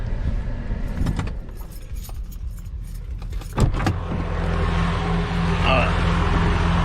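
A Freightliner Cascadia truck sits idling to warm up, a steady low diesel rumble running throughout with clinking and rattling noises on top and a brief louder thump midway.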